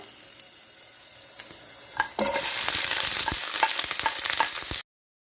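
Chopped onion hits a hot pan for a cabbage and capellini dish, breaking into a loud, steady sizzle after a couple of quiet seconds of stirring, then frying continuously with small pops until it cuts off.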